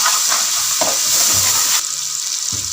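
Spice masala frying down in a pot for beef yakhni pulao, a steady loud sizzle running throughout with occasional soft scrapes of stirring, no voices.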